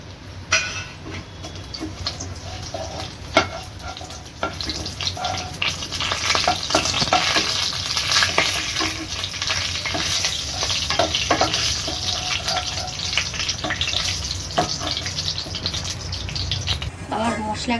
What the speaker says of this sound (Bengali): এই তেলটার মধ্যে আমি জিরে, তেজপাতা আর শুকনো লঙ্কা দিয়ে দিলাম